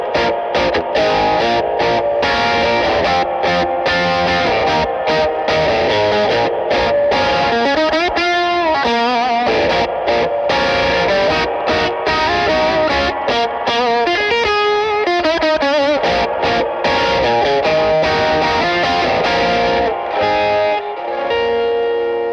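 Electric guitar run through a Boss RV-200 reverb pedal, its clean tone mangled into ragged, fuzzy distortion, playing sustained chords and melodic lines with a wash of reverb, steady and loud throughout.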